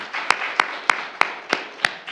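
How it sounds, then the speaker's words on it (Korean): A church congregation applauding together in a sanctuary, a steady wash of many hands with sharp, regularly spaced claps standing out above the crowd, continuous and moderately loud. "이 시간 우리 다 함께 그분들을 향해서 한번 박수로 격려하고 감사했으면 좋겠습니다."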